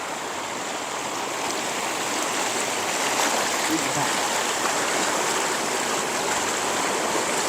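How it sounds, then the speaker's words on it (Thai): Water rushes steadily over the rocks at Kaeng Pla Kaeo waterfall in Ban Bung Khiao, a close, loud, unbroken roar and splash with no letup. "ดูชัดๆเลยเนาะน้ำตกคือแกงปลาแก้วนะครับ"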